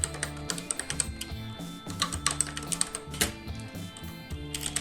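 Steady typing on a computer keyboard while entering code for an HC-06 Bluetooth module project, with rapid clicky keystrokes in quick uneven bursts, close and clear without talk.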